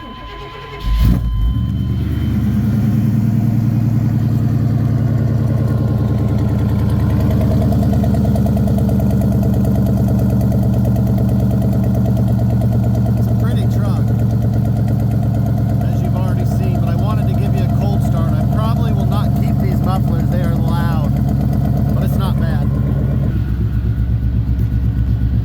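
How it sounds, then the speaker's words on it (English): A 1993 Chevy Blazer K1500 engine cranks and fires on a cold start, then settles into a steady, loud, rumbling idle that runs for over twenty seconds while a voice talks over it. "what kind of review would be complete without a cold start?"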